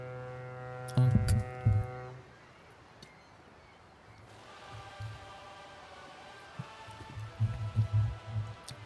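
A ship horn blares in the Yakuza game, a long harmonic-rich honk sounding twice in quick succession, then a quieter stretch of ambient noise before another low harmonic tone with low thumps near the end.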